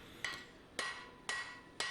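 Four evenly spaced hammer blows on hot steel, angled edge-first to forge a plunge cut at the ricasso of a hidden tang knife, each a sharp ringing strike, close and clear with no talk.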